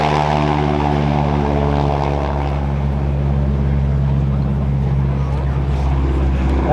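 Propeller tips of a radial-engine airplane going supersonic at about 2,500 RPM during a low, accelerating takeoff at an air show, a loud, continuous rasping engine roar with a harsh buzzing edge, close and steady throughout.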